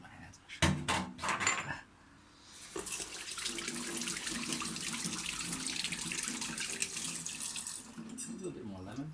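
A kitchen tap gushes steadily into the sink for several seconds as hands are washed during cooking, close and fairly loud, after some brief clatter and a voice at the start.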